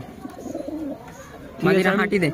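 Soft throaty pigeon coos rise and fall near the microphone, with a louder burst of cooing toward the end and low talking in the background.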